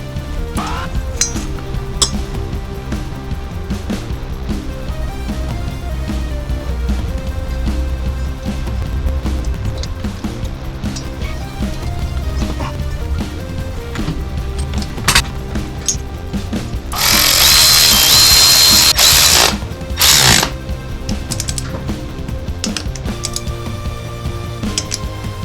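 Metal hand tools clink and ratchet while a Motocompo cylinder head is torqued down, mixed with steady mechanical clatter throughout and a loud, bright, hissing burst near the end.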